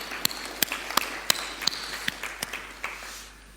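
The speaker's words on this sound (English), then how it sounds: "Stand up, big applause if you want." Sparse, sharp claps ring out one by one in a room during a volunteer-team acknowledgement, a few hands clapping irregularly rather than full applause, fading toward the end.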